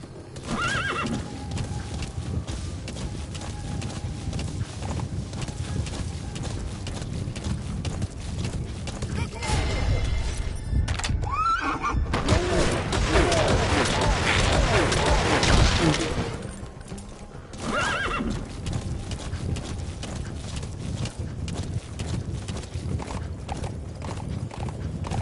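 A horse whinnies a few times over steady clip-clopping hooves in Metal Gear Solid 5, with a louder burst of commotion midway and a voice speaking at times.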